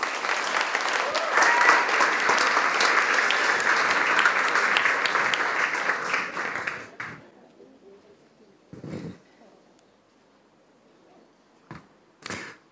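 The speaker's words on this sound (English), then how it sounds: "So everybody, please put your hands together for Patrik." Conference audience clapping for a speaker introduced on stage in a generative design talk: dense, loud applause for about seven seconds, fading out, followed by a few isolated bursts of noise.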